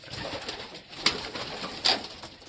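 Soft, low pigeon coos murmur close by against a faint background hiss, with a couple of sharper flutters or taps.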